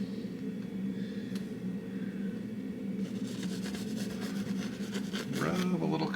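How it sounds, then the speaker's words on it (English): A paintbrush rubs oil paint onto canvas to blend soft clouds, a steady scratchy brushing texture that grows into quicker back-and-forth strokes toward the end, close and continuous. "Rub a little color on."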